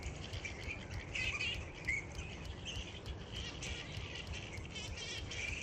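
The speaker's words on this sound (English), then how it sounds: "it wasn't birds, it was bats making these noises" Bats at Parramatta, Sydney, calling in a busy colony, a constant wash of high chirps and squeaks over a hiss of background noise, with no talking.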